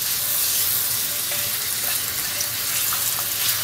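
Aromatics fry loudly in hot oil, a dense continuous sizzle close up with no talking, steady throughout.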